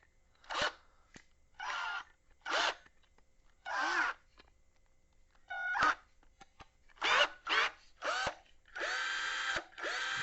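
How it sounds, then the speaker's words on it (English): A Black & Decker drill with a hole saw cutting a hole in plywood, running in about ten short bursts with brief whirring spin-ups and pauses between, close and clear with no talking. "we're going to cut a hole in this piece of plywood. Got my trusty Black & Decker"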